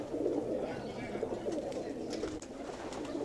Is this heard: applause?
no